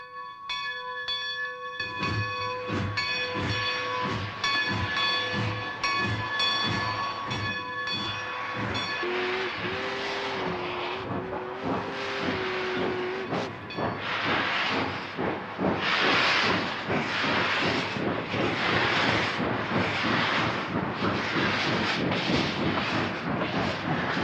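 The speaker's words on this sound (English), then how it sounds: "the train came out of the hole as the engineer cleared the stacks" A steam locomotive chuffs steadily and loudly, with a sustained whistle early on, then rhythmic heavy exhaust bursts accelerating as the train pulls out of a tunnel and away.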